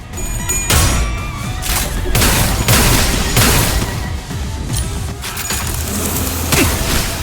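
Gunfire in the video game Limbus Company: a series of loud, close, heavy blasts and crashing impacts recurring roughly every second over a dense rumbling background, with no talk.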